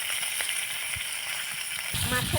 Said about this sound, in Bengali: এখন মাছগুলো দেওয়া হচ্ছে। মাছটা একটু ভাজি করে নেওয়া হবে।